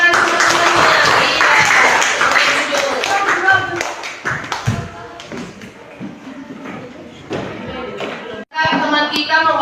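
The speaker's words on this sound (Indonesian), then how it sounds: "tepuk tangan semuanya" Children in a classroom clap together after a story, a burst of scattered hand claps and taps that fades to sparse thumps and shuffling, with a short renewed burst near the end and talk in between.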